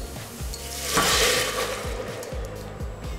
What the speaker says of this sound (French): Je commence par verser l'eau dans les oignons.